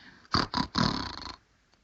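A voice imitates a witch snoring while reading a children's story aloud: two short snorting breaths followed by a longer rasping inhale, close and fairly loud.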